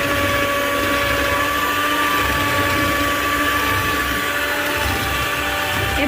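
An electric beater whips egg whites with sugar for a saucepan-baked sponge cake, giving a loud, continuous motor whine with a steady pitch and no pauses.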